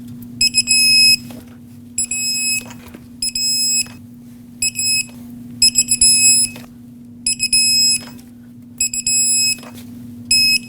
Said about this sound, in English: we're going to torque them to 98 foot-pounds